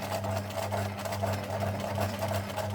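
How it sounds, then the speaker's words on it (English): A sewing machine stitches steadily over embroidery thread on fabric, its motor humming in a continuous, even rhythm from start to finish with no talking. "to sew over the thread, over the embroidery thread."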